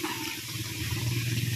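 Flowing water from a waterfall and stream in Upper Bangkal, a steady broadband rush with a low churning undertone, continuous and fairly faint, heard without voices.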